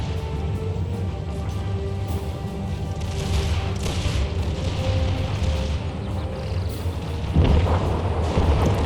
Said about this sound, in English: And artillery does seem to be doing decent, getting decent kills.